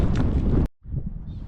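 Strong wind buffets a microphone high on a mountain during a solo backpacking trip, a loud close rumbling roar that cuts out abruptly and then returns in a softer gusting rush.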